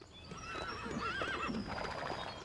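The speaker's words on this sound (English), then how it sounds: "Hello, Mr. Horse!" A horse in the Lego City Undercover video game whinnies in a wavering, quavering call over soft clip-clop hooves, fairly faint with a steady background hum.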